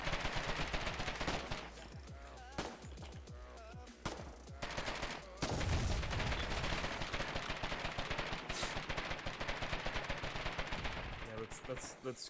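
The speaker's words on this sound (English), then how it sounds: "Oh, they're shooting." Bursts of rapid gunfire and single shots crackle through a video game battle, dense and fairly close, continuing almost without pause over a busy background of game sounds.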